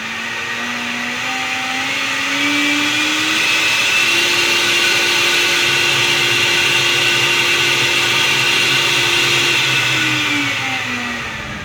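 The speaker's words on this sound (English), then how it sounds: "we've been making a lot of jet engine type noises" Electric GT fan-car with downforce fans behind the driver gives a loud, steady jet-engine-like whine and whoosh, its pitch rising and holding as the fans spin up, with no talking over it.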